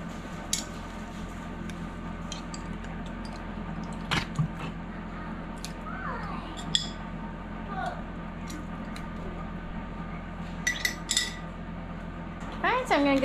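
Jars of home-canned meatballs in tomato juice are handled and popped open in a kitchen, with scattered metallic clinks, taps and glassy knocks over a steady low room hum.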